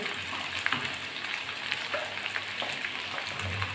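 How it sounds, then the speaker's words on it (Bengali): Potatoes frying in hot oil in a pan, a steady soft sizzle and crackle with no talking, for a Bengali tilapia fish curry with potatoes. "আমি আলুগুলো লাল লাল করে ভেজে নেব"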